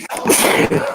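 A single sharp sneeze bursts out close to the microphone during a relaxed, casual chat, brief and loud with no talking over it.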